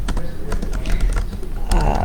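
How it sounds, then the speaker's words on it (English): Two hands type on a computer keyboard in a fast, uneven patter of close clicks and key taps over a low background hum. "Let me go ahead and just spend some time typing with two hands."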